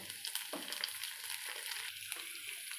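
Curry leaves dropped into tempering oil with onions and green chillies for horse gram rasam give off a soft, steady frying sizzle with light stirring scrapes, quiet and close, with no voices.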